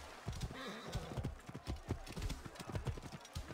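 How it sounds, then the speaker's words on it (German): Galloping horse in Assassin's Creed Origins, a quick steady run of hoofbeats with a brief whinny near the start, loud and close throughout under game ambience. "Schneller, mein Pferd, schneller."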